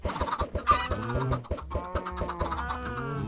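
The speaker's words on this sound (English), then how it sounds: "We have chickens now." Minecraft chickens cluck in a steady stream of short repeated clucks, a busy flock close by with some overlapping calls.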